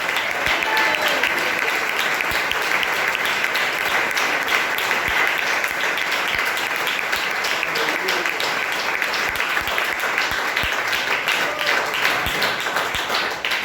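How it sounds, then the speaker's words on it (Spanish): A church congregation applauds their God during a Spanish-language sermon, sustained dense clapping filling the whole stretch at steady loudness, with a few voices and shouts mixed in. "Alguien que aplauda al Rey de Gloria a esta hora"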